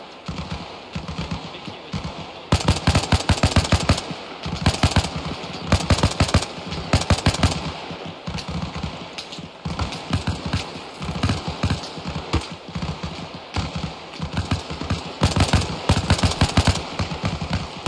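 Rapid bursts of automatic gunfire from the Arma Reforger game, a night ambush firing to knock out the last apron floodlights: dense volleys alternating with short pauses, loud and close, continuing throughout with a faint background hum.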